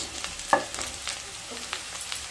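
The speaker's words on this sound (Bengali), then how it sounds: "আলু গাজর আর ফুলকপি হালকা ভাজা হয়ে গেলে এবার দিয়ে দেব বিনস" Potatoes, carrots, cauliflower and beans stir-fry for vegetable chowmein, with a soft sizzle and a few quick spatula scrapes and taps in a close, brief burst.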